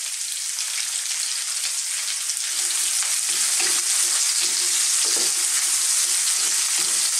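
Onions sauté in a pan for a Filipino ginisang munggo with chicken, giving a continuous loud crackling sizzle with faint scraping stirs from midway, close and without voices.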